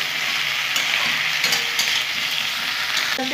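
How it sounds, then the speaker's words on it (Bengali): Cauliflower pieces coated in turmeric fry in hot oil with a steady, close sizzle and crackle, with occasional stirring and a faint clink near the end. "আমি শুধু হলুদ দিয়ে ভাজলাম বন্ধুরা, কালারটা হওয়ার জন্য"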